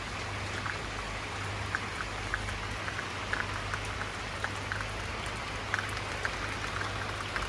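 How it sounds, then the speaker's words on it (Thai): Rain falls steadily over a garden near cloud-covered mountains on a Chinese New Year day, making a soft, constant hiss with scattered faint drip ticks throughout. "ฝนตกแล้วนะคะคลายร้อนเลยค่ะ"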